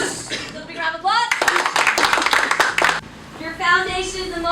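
Children in a black belt martial arts class clap together in a quick burst of rapid, close, sharp claps lasting a couple of seconds, with young voices speaking just before and after.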